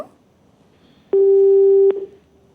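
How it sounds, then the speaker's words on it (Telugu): A telephone line tone sounds as a call drops: one steady electronic beep lasting under a second, clear and alone against a quiet background. "కాల్ కట్ అయిందండి"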